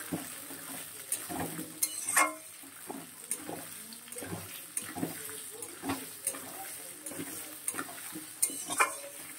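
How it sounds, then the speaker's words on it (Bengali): Potatoes and onions frying in a pan, a steady soft sizzle broken by repeated scraping stirs at an irregular pace, close and moderately quiet with no talking. "আলু পেঁয়াজটা লাল লাল করে ভাজা হবে"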